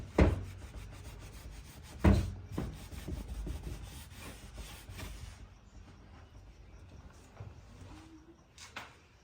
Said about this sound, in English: I've done 120 sandpaper, so on the side as well.